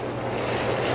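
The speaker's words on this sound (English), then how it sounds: "If I want my jet pump to come on high speed," Arctic Spas Be Well O354 hot tub with its jet pump switched to high speed: a loud, steady rush of churning water and motor hum, continuous and close, with no talking.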